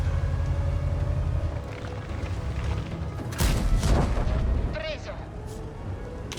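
A tank cannon shell fires in a tank battle game with the Progetto First Mark, giving one deep, heavy boom over a steady engine rumble, followed by a fading rattle and someone talking.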